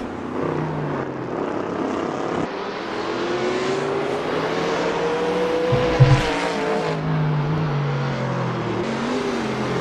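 Race cars in the Assetto Corsa video game brake and accelerate through the Andretti hairpin, engines droning and rising in pitch as several cars pass one after another, loud and close throughout.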